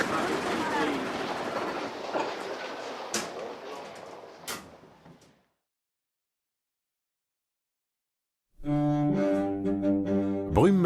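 A metre-gauge railcar rumbles and clatters along the line toward Tulle for about five seconds, then fades into silence, followed by a loud, steady, tonal passage that may be the railcar's horn or music.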